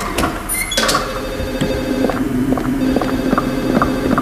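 Telephone ringing in the Silent Hill video game, a steady electronic ring repeating in short bursts over low game ambience and hum, moderately loud throughout.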